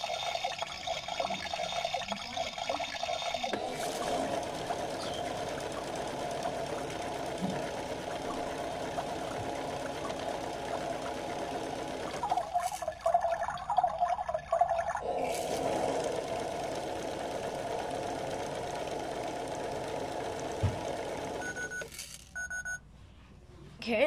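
Toy washing machine running with water and detergent inside, a steady churning, sloshing whir with a few clicks and brief pauses near the end, heard close and alone.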